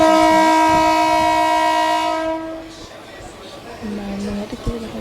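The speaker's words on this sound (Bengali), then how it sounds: "এটা হলো নৈহাটি থেকে ট্রেন" A train at Naihati station sounds a loud sustained horn for a couple of seconds, then fades to a low rumble with scattered clanks and faint voices around.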